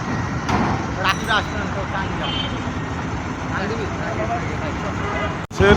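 Dense road traffic jammed around a city marathon course, a steady roar of car and bus engines with a brief air-brake hiss near the end, heard under continuous talk.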